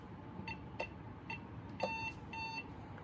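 A Safe House 49-485 alarm system gives a series of short, fairly faint electronic beeps at uneven intervals after its motion detector is tripped, with a quiet room hiss underneath.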